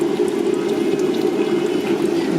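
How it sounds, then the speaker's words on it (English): Coolant trickles and leaks steadily from a cracked-open radiator drain on a Honda Accord V6, a continuous, close, fairly loud liquid hiss with no talking. "I barely cracked it a teeny bit, and it's dripping back here, and it's leaking all over here."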